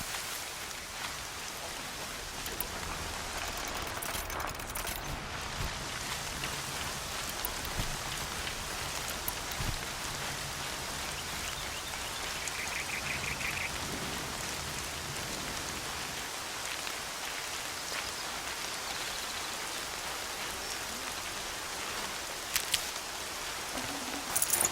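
Steady rain pours across an outdoor scene in the video game Horizon Zero Dawn, a continuous broadband hiss of falling drops that holds evenly throughout with no voices over it.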